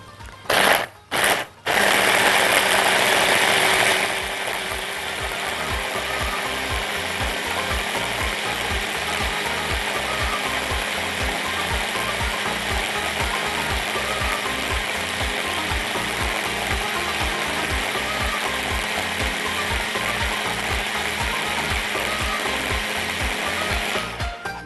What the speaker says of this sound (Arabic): بصوا معايا اتفرمت كل المكونات مع بعض